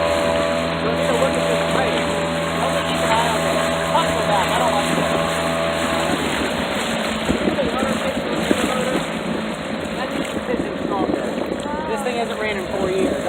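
A small dinghy outboard motor that had not run in four years drones steadily and loudly, a constant engine hum with some wind buffeting, the tone shifting partway through as the boat gets under way.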